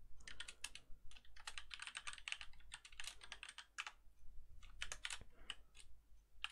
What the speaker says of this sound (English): So just to type it in quickly